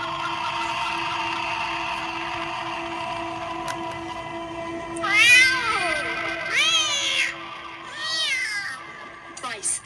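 A cat meows several times in drawn-out, wavering cries with a steady hum underneath, the calls fairly close and clear.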